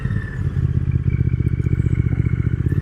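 A 2022 Triumph Thruxton RS cafe racer's engine pulling hard, its close, loud, throbbing exhaust pulses quickening as the bike accelerates, with faint mechanical clatter riding on top.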